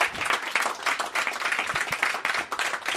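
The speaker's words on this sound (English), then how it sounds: "Let the applause die out." A live comedy show's audience applauds at the close, a dense, continuous wash of clapping hands, loud and sustained without pause.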